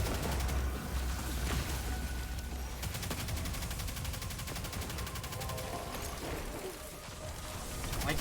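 Rapid turret fire in a video game, a dense stream of mechanical rattling shots sustained across the scene with a noisy, busy background.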